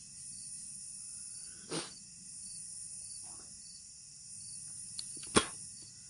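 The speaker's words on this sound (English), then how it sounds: "You can hear the cicadas." Steady high insect chirring from cicadas at night beside a river during bank fishing, a continuous buzz filling the background with a couple of brief faint knocks and clicks.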